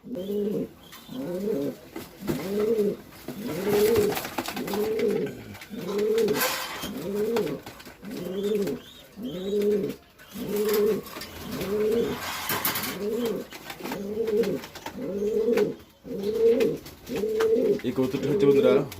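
A Hoeben-line racing pigeon coos close by, repeating its throaty call about fifteen times in a steady, even rhythm.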